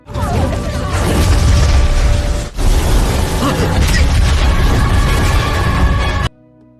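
A container blows up in a Battle Through the Heavens donghua animation: a loud, sustained crashing roar with dense rumble, briefly cut off midway, then surging on before ending abruptly.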